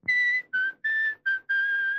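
A person whistles a short tune in five distinct bursts, clear and close, with brief pauses between notes and a longer final held note, no one talking over it.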